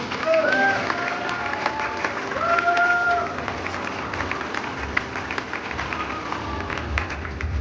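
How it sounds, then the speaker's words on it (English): A crowd at an awards ceremony claps continuously at moderate loudness, with a few voices and scattered cheers mixed into the dense patter. "And massive round of applause for Jamie."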